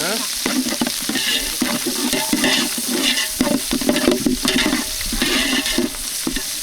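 Green chillies and mint frying in a pan in a village kitchen, stirred briskly: repeated rhythmic scraping strokes over a constant loud sizzle, close up.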